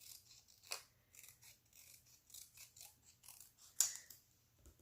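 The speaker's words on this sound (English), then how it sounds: "I'm going to cut this extra white piece off here." Scissors cutting white index card paper for a craft banner: a quiet series of crisp snipping and sliding blade sounds in a steady rhythm, close and soft, with one sharper snip near the end.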